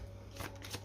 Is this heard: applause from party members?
no